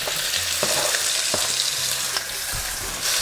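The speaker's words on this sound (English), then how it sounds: "into my pan, I'm going to add just a little bit more avocado oil, and then all of my steak" Beef steak sears in avocado oil in a hot pan, a loud, dense, continuous sizzle with occasional scrapes and clacks as the pieces are stirred and moved around.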